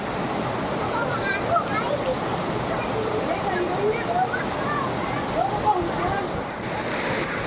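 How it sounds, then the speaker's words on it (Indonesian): A small waterfall pours straight down into the Ciesek river at a campsite, giving a steady, close, full-bodied rush of falling water that runs without a break, with faint bird chirps above it. "Ini ada curug mini guys. Ya, jadi langsung ke bawah dia, langsung ke sungainya."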